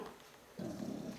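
A dog growls low and steadily at close range, a soft whimpering whine mixed in, with a faint rustling background and no talk.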